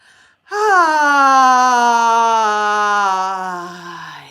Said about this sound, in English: Nice big inhale and a courageous exhale.